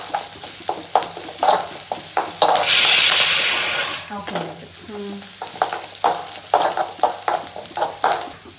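Mustard seeds, fennel and onion fry in a home-kitchen pan with steady sizzling and repeated spoon scrapes, swelling into a loud, hissing burst midway before settling back to stirring and crackle.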